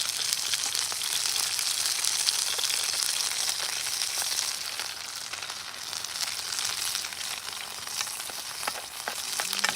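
Beer-battered fish and chips frying in hot fat over an outdoor cook setup in the woods: a steady, dense, loud crackling sizzle that holds unbroken throughout, with faint pops scattered through it.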